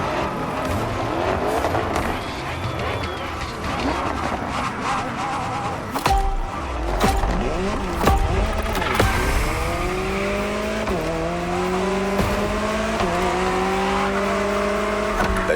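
A Jaguar CX-75 concept car engine revving and accelerating in the racing game The Crew Motorfest, with rising gear-change sweeps, tire squeals and skids, loud and close, while a voice talks faintly underneath.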